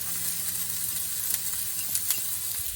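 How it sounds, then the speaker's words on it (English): Leek and onion sautéing in olive oil in a pan, a continuous close, bright sizzle with small pops and crackles throughout. "Just saute it until the onion is translucent."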